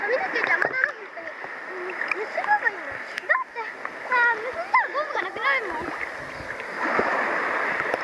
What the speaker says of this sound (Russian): Дети иностранцы купаются